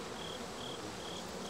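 Bees buzzing around beehives, a steady insect drone with a faint repeating whine, continuous and fairly quiet with no talk.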